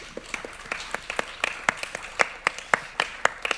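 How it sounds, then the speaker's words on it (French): Scattered audience applause at a round-table talk, made of distinct individual claps spaced irregularly rather than a dense roar, sparse and fairly close. "Merci beaucoup Marie-Hélène Cailleul, on peut vous applaudir."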